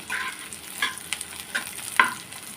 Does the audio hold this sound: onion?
yes